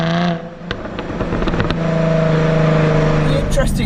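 Jaguar F-Type with its standard exhaust revs loud and close, a steady rising engine roar that holds and builds over a few seconds, with no talking.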